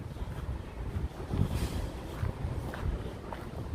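Wind gusting across a microphone outdoors near Central Park in New York City on a warm, humid evening, a low rumbling buffeting that swells and dips unevenly, with no voices.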